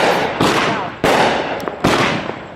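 Fireworks burst in a front yard during a Fourth of July celebration, three loud, close cracks spaced about a second apart, each trailing into crackling, hissing fizz.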